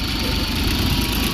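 Engine of a 1988 John Deere 322 garden tractor running close by, a loud, steady, rumbling drone with an even vibrating throb and no talk over it.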